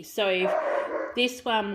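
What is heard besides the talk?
dogs barking outside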